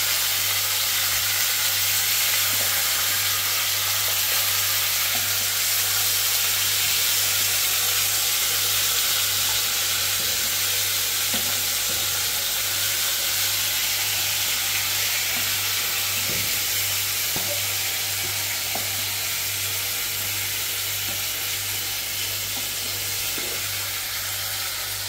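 Seasonings sizzle in a little hot oil for Jamaican steamed fish, a steady close hiss that holds evenly throughout with a low hum underneath and no talking.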